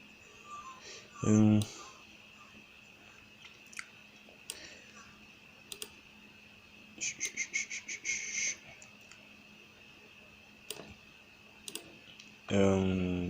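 Computer mouse clicks, sparse single clicks and a short rapid burst, heard faintly under a soft steady hum, with a few louder tonal bursts from the computer mixed in.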